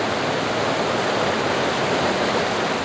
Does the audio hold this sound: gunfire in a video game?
no